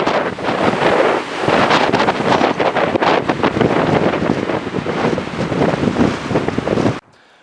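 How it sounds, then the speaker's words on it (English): Strong wind of roughly 40 to 45 mph buffets the microphone at a WWII B-24 Liberator crash site in Texas, a loud continuous rumbling roar that cuts off abruptly near the end. "Very windy, about 40 to 45 mile per hour winds up here."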